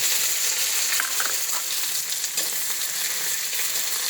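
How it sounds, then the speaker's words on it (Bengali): Onions frying in hot oil in a kadai with black cumin, a steady dense sizzle with faint stirring scrapes running evenly throughout, close and moderately loud. "এখন আমি পেঁয়াজ দিয়ে দেব।"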